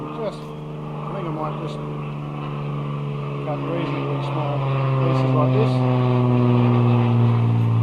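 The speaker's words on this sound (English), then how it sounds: "Please excuse the plane going overhead." A propeller plane drones overhead, its low engine hum growing steadily louder while a person talks over it nearby.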